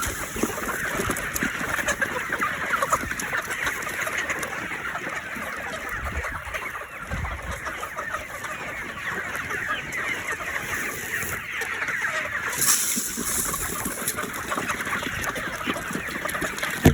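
A flock of chickens being fed pellets clucks continuously, with overlapping calls close by against steady background noise and no talk.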